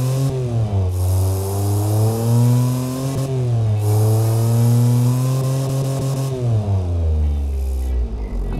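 A small three-cylinder engine in the Automation and BeamNG video games revs repeatedly, pitch climbing and dropping in several rising pulls with a buzzy, raspy tone, loud and close.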